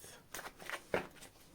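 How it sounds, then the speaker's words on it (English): A deck of tarot cards being shuffled by hand, giving a few quick papery riffles and slaps in short separate bursts, close and fairly quiet against a hushed room. "Last shuffle."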